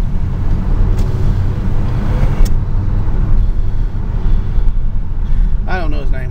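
A car drives along a road with a steady, loud engine and tire rumble from inside the vehicle, and people talk over the noise.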